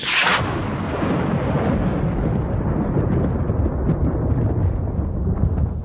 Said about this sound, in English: Kind of nice to hear the thunder going out occasionally.